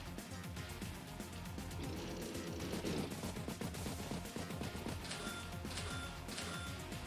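Attack fire hitting a recon unit in the Advance Wars video game, a dense burst of rapid gunfire and impact crackle playing at moderate loudness for several seconds, with no talking.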